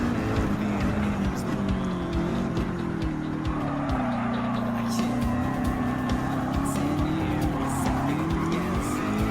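A 2015 Ford Mustang GT with 443 horsepower races around WeatherTech Raceway in Gran Turismo 7, its engine droning loudly and steadily under throttle with pitch swells and faint tire squeal throughout.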